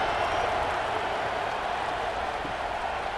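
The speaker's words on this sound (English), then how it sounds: "this crowd is buzzing after that last score" A college football stadium crowd, Miami Hurricanes against Virginia Tech, buzzes after a score. The roar is dense and constant, with no single voice standing out.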